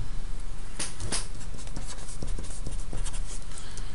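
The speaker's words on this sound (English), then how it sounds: "And then you write out the rest of the equation" Pen or marker writing out an algebra equation during a math lesson, a steady scratchy stroking with a few brief taps, close and fairly constant, no talking.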